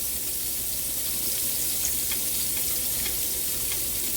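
Onions, carrots and shallots frying in grease in a pan for braised beef short ribs give a loud, steady sizzle that holds without a break, with no voices over it.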